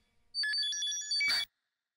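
A telephone rings once with a short electronic trilling tone, clear and close, ending abruptly as if answered, with silence after.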